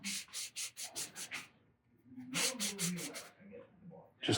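Scotch-Brite pad rubbed briskly against a cut Harley-Davidson fork tube to knock off burrs, a run of about six rhythmic scrubbing strokes, a pause with faint low talk, then another close burst of rubbing strokes.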